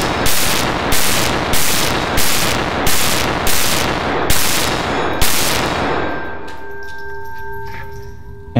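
A Glock pistol fires roughly nine loud, sharp rounds at a steady quick pace, each crack close and punchy, followed by a fading metallic ringing once the shooting stops.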